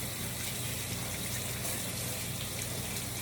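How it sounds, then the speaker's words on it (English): A kitchen tap running steadily as sticky hands, coated with fresh aloe gel, are rinsed beneath it, a dense continuous gush of water close up. "Now I'm going to rinse my hands, it's a little sticky."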